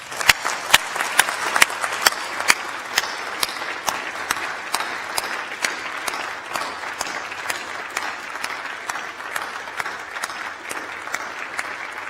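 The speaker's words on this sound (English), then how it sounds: "So I ask them, along with my colleagues, once again to applaud you," An audience at a University of York graduation ceremony applauds the new graduates, a long, steady round of many hands clapping with crisp individual claps standing out over the dense roar, no voices.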